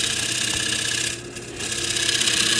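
Steady scraping hiss of a chisel cutting a dovetail tenon on a sweetgum bowl lid spinning on a wood lathe, close and continuous, dipping briefly midway as the cut eases.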